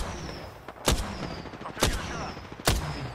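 Three sharp, loud gunshots from a video game ring out about a second apart, each with a quick decaying tail, standing alone over a low background hum.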